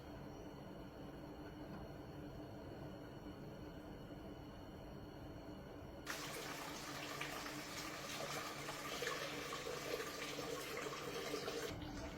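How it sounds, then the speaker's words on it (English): Antifreeze coolant drains from a classic Ford Mustang radiator into a bucket, a steady trickling rush that gets louder and splashier partway through and then runs on evenly. "Now if you have a valve at the bottom of your radiator, you can open that up to drain the coolant, the antifreeze"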